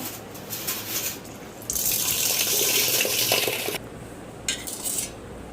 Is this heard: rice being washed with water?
yes